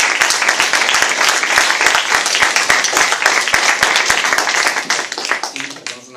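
Audience at a talk on the publishing world bursts into dense, sustained clapping close by, loud and continuous before thinning out at the end.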